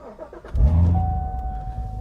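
A C7 Corvette Z06 fires up with a starter whir, then a loud, deep engine roar that settles into a steady, rumbling idle close by, lasting nearly two seconds.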